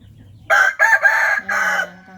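A rooster crows loudly and close by, one full cock-a-doodle-doo call in several stretched, raspy syllables against a quiet background.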